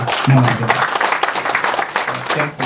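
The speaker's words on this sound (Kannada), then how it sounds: "ರಾಷ್ಟ್ರ ಪ್ರಶಸ್ತಿ ವಿಜೇತೆ ಸಾಲಮರದ ತಿಮ್ಮಕ್ಕ ಜಿಕಾಣ್ ಅವರಿಗೆ ಜೋರು ಚಪ್ಪಾಳೆ ಮೂಲಕ" An audience claps at a Kannada film title song release event, a dense burst of applause with a voice speaking over it throughout.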